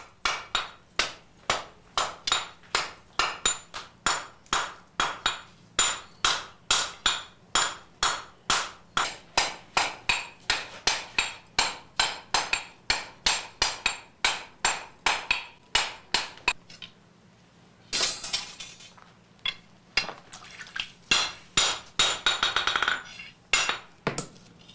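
Hammer blows on hot steel as the tip of a Japanese sword blade is forged, a long run of sharp, evenly spaced ringing strikes. A brief pause falls partway through, then the strikes resume in a quicker cluster.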